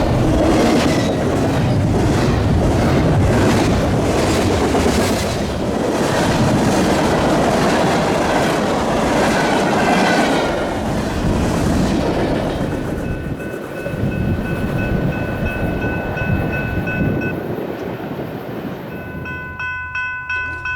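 A BNSF freight train rolls past close by on the rails in Western Washington with a loud, heavy rumble and rhythmic wheel clatter, then fades as faint squealing tones linger near the end.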